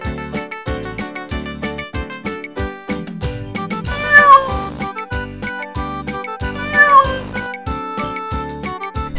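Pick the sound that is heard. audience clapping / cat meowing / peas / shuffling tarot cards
cat meowing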